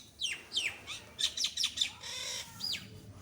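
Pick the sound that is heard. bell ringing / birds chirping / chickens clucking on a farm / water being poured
birds chirping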